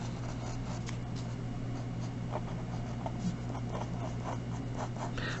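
A pen draws the sides of a rectangle on paper, a faint continuous scratching with small strokes over a steady background hum.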